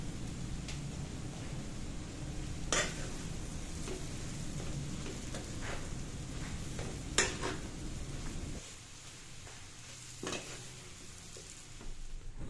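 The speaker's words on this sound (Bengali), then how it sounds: "মশলাগুলো দিয়ে সুন্দর করে একটু নেড়ে চেড়ে নেব।" Noodles with soybean chunks, vegetables and spices stirred in a pan: steady sizzling and frying hiss with occasional sharp scrapes and clanks of the utensil, the sizzle dropping quieter near the end.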